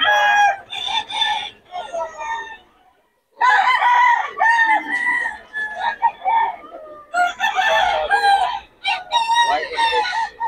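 A McLean hatch gamecock rooster crows repeatedly and loudly at close range in long, strained calls, with short pauses between bursts, at a market with people nearby.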